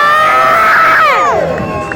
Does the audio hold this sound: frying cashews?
no